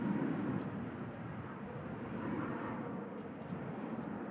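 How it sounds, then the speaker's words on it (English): A Ryanair Boeing 737 MAX rolling down the runway at Manchester Airport, heard from a distance as a steady, broad roar of jet engine noise, fairly faint and continuous without talk. "Ryanair 737 MAX rolling down the runway there as well"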